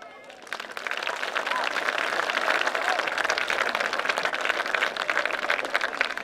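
Applause for homecoming candidates at a high school football game, Gordon-Rushville vs Chadron, as a crowd claps steadily and loudly in an open stadium, with brief talk at the start.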